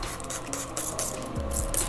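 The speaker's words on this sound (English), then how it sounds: "I'm going to spray my hair to get it a little damp." A few quick hissing bursts from a spray bottle of plain water dampening sisterlocks hair, close by, with soft handling rustle between them.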